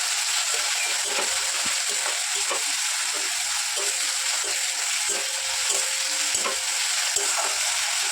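Ginger garlic paste sizzles steadily in hot oil in a pan for a mushroom dish, with a constant close frying hiss and soft rhythmic scrapes of a spatula stirring it throughout.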